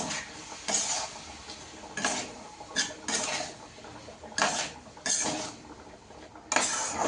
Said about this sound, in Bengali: চলো মশলাটা এখন কষিয়ে নিই